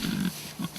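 Pigs on a farm give two short, low grunts close by, separated by a brief pause.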